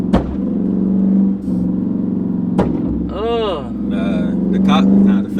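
Dodge Charger R/T with a burble tune, its exhaust cracking in a few sharp pops between a loud rumbling idle, close to the microphone, with voices talking over it.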